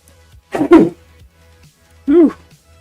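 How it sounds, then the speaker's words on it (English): A single sharp, breathy sneeze bursts out up close, followed after a short pause by a brief voiced grunt or throat sound. Everything else is quiet. "Oh, I gotta sneeze."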